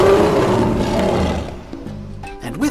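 A cartoon lion gives a loud, sustained roar lasting about a second and a half, then it trails into lower growly sounds with a brief rising cry at the end.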